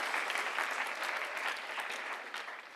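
At a school writers expo, an audience claps for the helpers in a steady, even round of applause from a modest crowd, heard at some distance and moderately quiet throughout.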